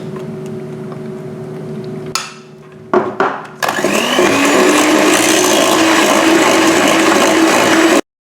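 An electric mixer or blender whirs loudly and steadily, stirring liquid chocolate into an ice cream cream base for chocolate-Oreo ice cream, starting after a few brief bumps and running continuously close by.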